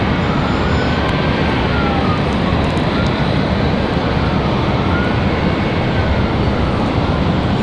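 A Delta airliner at Raleigh-Durham airport produces a loud, continuous broadband engine roar, heard as a steady unbroken rumble with no talk over it.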